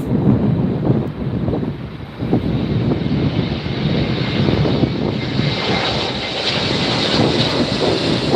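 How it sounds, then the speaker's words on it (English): A Delta Airlines Airbus A321 arriving at LAX from Honolulu roars steadily and loudly throughout, its jet engine noise mixed with wind buffeting the microphone, with no talking. "Coming in next from Honolulu, we have Delta Airlines Flight 422 and Airbus 321."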